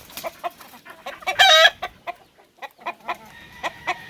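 A good-looking gamefowl rooster and hens, such as West Virginia Blues and an Irish Poll hen, cluck in quick repeated bursts nearby, with one louder, longer squawk partway through and no voices.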